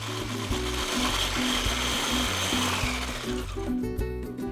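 An electric whisk beating Swiss roll batter until it is thick and pale: a close, steady mechanical whir with a rattling, gear-like pulse that runs throughout and eases slightly at the very end.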